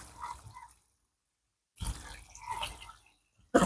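Ducks splash and dive in a backyard pond, two short bursts of close watery splashing and flapping separated by a moment of near silence, fairly faint overall.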